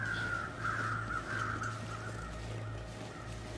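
Crows caw repeatedly in the video game The Long Dark, a steady run of harsh calls at moderate distance over a constant low ambient drone, with no talking.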